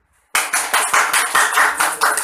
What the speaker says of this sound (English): Okay, a round of applause to everybody.